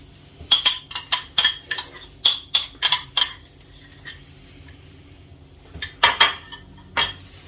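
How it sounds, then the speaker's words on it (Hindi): Cream and lemon tart ingredients mixed in a bowl, a spoon or whisk clinking against the dish in quick, uneven bursts with short pauses, close and fairly loud. "और सब चीजों को अच्छी तरह मिक्स कर देना है।"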